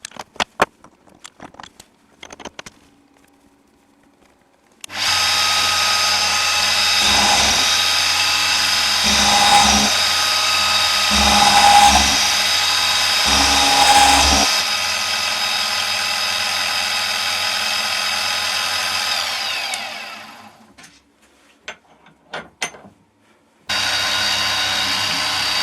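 A large centre drill bores a hole through a metal stud, whining steadily for about fifteen seconds with a few pulsing surges, then stops; faint handling clicks come before and after.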